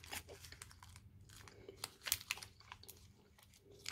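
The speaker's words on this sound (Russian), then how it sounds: "Я прям чавкаю, да?" A cherry-almond snack bar is bitten and chewed up close, with crisp crunching and wet mastication in an irregular rhythm and a few sharper crunches, nobody talking.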